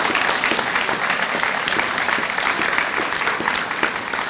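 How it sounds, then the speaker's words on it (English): Sustained applause from an audience at a physical education presentation, a full, even roar of many hands clapping throughout, fairly close and loud with no speech over it. "I'd like to give them guys a big round of applause"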